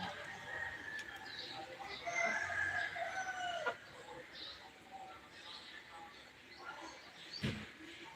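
Chickens clucking with a rooster crowing at a farm in the Philippines, fairly faint and distant against steady outdoor background noise, with people talking nearby.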